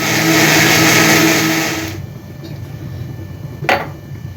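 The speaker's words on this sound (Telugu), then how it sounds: "కొబ్బరి చట్నీ అండి, మిక్సీ చేస్తున్నాను." Mixer grinder whirring loudly as it blends coconut chutney for about two seconds, then cutting off, leaving quiet room tone with a brief clink.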